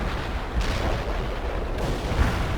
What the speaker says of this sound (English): Artillery! Under attack!